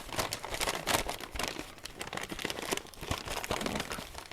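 Paper crinkles and rustles up close as it is folded into an Easter basket, a quiet, continuous series of crisp crumpling and creasing sounds with no talk.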